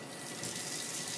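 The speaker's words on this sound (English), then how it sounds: "run some warm water" Warm water running from a tap into a sink for rinsing tie-dye, a steady, dense hiss of flowing water with no pauses, close by and alone.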